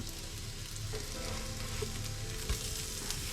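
Sweet corn and courgette fritters fry in a pan with a steady, close sizzle that holds level throughout, broken by a few soft taps as pieces are flipped.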